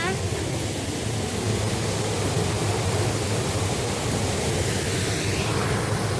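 Water pouring loudly along a farm stream channel, a dense roaring wash that holds constant and close for the whole stretch.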